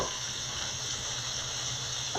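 Water runs from a kitchen tap beside a stove where lamb chops and linguine are cooking, a steady hissing rush at moderate level with no speech over it.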